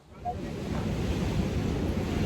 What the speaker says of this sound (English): the sea is very noisy, which is why these microphones are brilliant